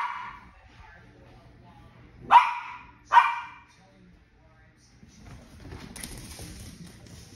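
A puppy gives two sharp, close barks in quick succession against a quiet background, followed by some faint rustling and low noise.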